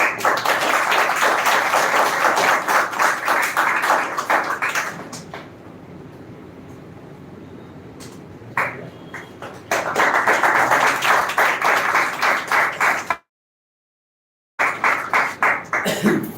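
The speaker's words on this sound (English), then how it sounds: "So first of all, clap for our respected Sanjeet sir." Audience in an English-learning session hall claps in two bursts of dense, loud clapping separated by a quieter lull, with a brief silent gap before clapping resumes near the end.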